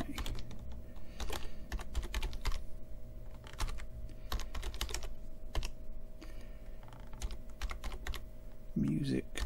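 Someone types on a computer keyboard at a bench with a micro:bit amplifier project, producing a long run of soft, irregular key clicks over a faint, steady hum.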